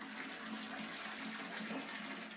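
Water gushes steadily from a bathtub tap into the tub, filling it with cool water for soaking watercolor paper; a continuous, fairly loud rush with no talking.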